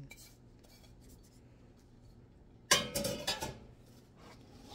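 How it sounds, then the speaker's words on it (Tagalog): Beef, carrots and other egg roll filling tossed together in a bowl, a burst of clinking and scraping against the dish after a quiet stretch, close and fairly loud. "Lalagay na lang natin yung lahat at tayo ay magme-mekos-mekos."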